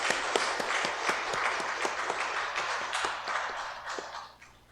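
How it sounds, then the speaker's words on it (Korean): Warm welcoming applause from a church congregation during a Sunday service, a moderate wash of clapping with distinct sharp claps on top, tapering off and fading toward the end. "환영의 박수 한번 드리도록 하겠습니다."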